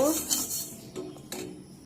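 A metal pan with fried moong dal is lifted off the stove, giving a few close clanks and scrapes of cookware and utensils, while someone talks over it.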